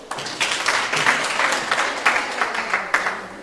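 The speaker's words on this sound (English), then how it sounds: "Can we please give them a round of applause?" A conference crowd at a domestic and family violence prevention event claps for a children's performance, a moderate, continuous round of applause with a few sharper individual claps standing out.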